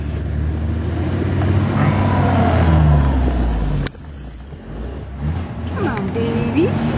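A classic car engine warms up with a low, steady idling rumble that cuts off abruptly midway and then resumes more quietly and unevenly, with people talking over it.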